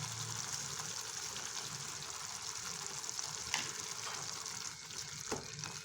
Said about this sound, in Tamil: இது எண்ணெயில் கொஞ்சம் நல்லா வதக்கணும்